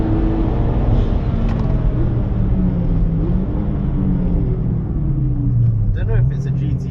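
Manual Mitsubishi Lancer Evolution X accelerating away on a racetrack during a track day, a loud continuous engine drone with rising and falling pitch, close and dominant throughout, with wind rumble over it.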